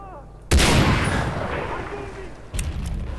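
A loud gunshot blast in Far Cry 3 cracks out close and then rolls into a long reverberant tail, with a second, weaker shot following a couple of seconds later.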